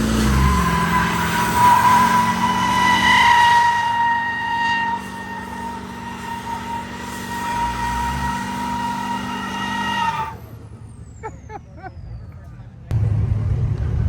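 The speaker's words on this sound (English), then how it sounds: "There goes Austin's brand new tires" Diesel truck spinning its brand new tires: a loud, sustained, screeching tire squeal with engine roar for about ten seconds, then it cuts out, leaving quieter background noise and a few brief sounds.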